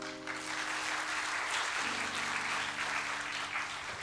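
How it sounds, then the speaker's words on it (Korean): Steady applause fills a church hall during a Friday Holy Spirit worship gathering, dense and sustained for the whole stretch, with soft held keyboard or organ tones beneath it. "다시 한번 큰 박수를 부탁드립니다"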